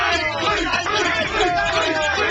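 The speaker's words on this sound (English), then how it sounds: "This crowd is something." A large fight-night crowd yells and cheers in a loud, continuous roar, with whoops and shouts rising over dense babble for the whole stretch.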